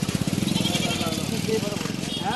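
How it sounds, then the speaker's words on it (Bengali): Goats at a busy livestock market in Kotulpur give wavering bleats over a dense crowd murmur and people talking nearby, with constant background bustle throughout. "ছাগলের হাটটা দেখালাম।"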